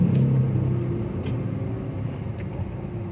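Low, continuous engine rumble of stop-and-go morning traffic heading to Malolos, close and steady, with occasional brief higher hisses of passing vehicles and no talking.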